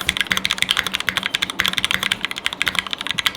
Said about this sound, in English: And then Ryan wanted to show you guys his new keyboard that he likes.